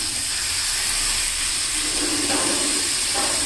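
Tomatoes hitting a hot pan of fried chilli powder and coriander powder for a tiger prawn curry, giving a loud, continuous steamy sizzle that swells slightly as they settle.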